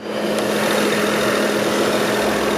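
The N54 twin-turbo engine in a 2011 BMW F02 740Li runs at idle, a loud, steady, close drone with a constant hum and no talking.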